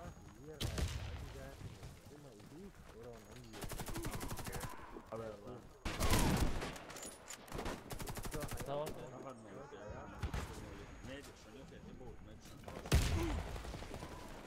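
A grenade is thrown during a Warface multiplayer match: loud bursts of automatic gunfire and blasts come in several clusters, while players talk over voice chat throughout.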